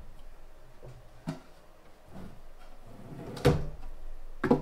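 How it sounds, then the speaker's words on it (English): A wooden drawer box in a Festool SysPort cabinet is worked in and out, giving a few soft sliding rubs and knocks, irregularly spaced, with a firmer thump near the end. "usually the first couple of times you got to work this drawer in and out"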